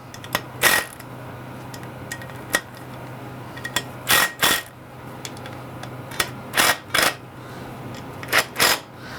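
Ratchet wrench clicking while tightening motorcycle clutch cover bolts, short bursts of sharp clicks in small groups spread irregularly over several seconds, close up with no voices.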